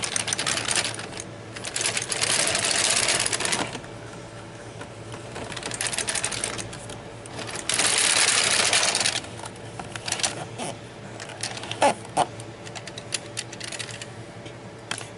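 A Bond knitting machine with a ribber attached, running in a steady back-and-forth rhythm. The carriage passes sound as bursts of clattering and swishing, separated by quieter clicking stretches, all fairly close and with no talk.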